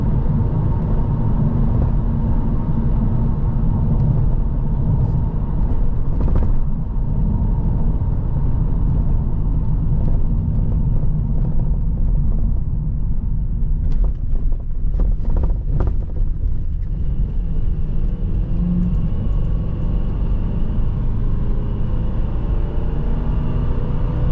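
A 2002 Ford Thunderbird rolls slowly over a railroad crossing, its steady road rumble and cabin drone broken by a cluster of knocks and thumps as the wheels cross the track.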